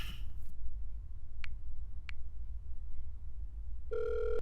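Telephone being dialed: a couple of brief key beeps spaced apart, then a steady electronic tone at the end, faint and close in a quiet room with no talking.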